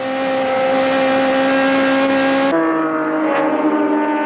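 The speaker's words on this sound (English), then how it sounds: "as they go around the long Sabat sweep with the cars right on the limit." Loud, close engine roar of modified race cars at full speed around a sweeping bend at Goldfields circuit in 1993, with a sharp pitch drop partway through as one passes, no voices.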